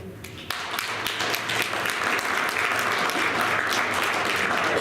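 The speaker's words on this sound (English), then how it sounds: "They're clapping for me, Rio, isn't that okay?" Dense, steady applause from an audience at a Seabrook, New Hampshire town deliberative session. It starts abruptly and stays loud and full throughout, with no talking over it.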